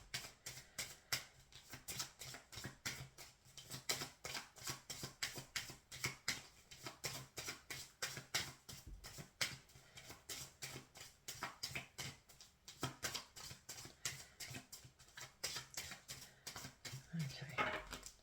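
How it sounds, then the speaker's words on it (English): A deck of tarot cards being shuffled by hand: a steady run of soft, crisp riffling patters repeated in quick rhythm for the whole stretch, close and fairly quiet, with no talking over it. "So that's my, what I would call my preliminary shuffle."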